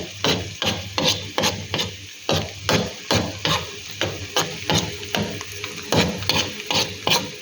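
Chunks of taro and spinach are sautéed with garlic in a pan, and a spatula scrapes and stirs in a steady, fast rhythm of loud, close strokes over a soft sizzle, with no voices.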